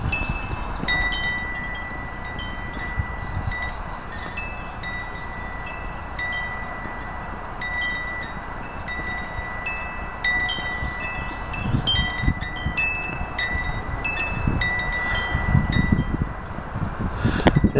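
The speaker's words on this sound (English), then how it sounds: "Right now it's pretty windy." Steady wind gusts buffet the microphone with low rumbling bursts, while faint birdsong chirps in the background.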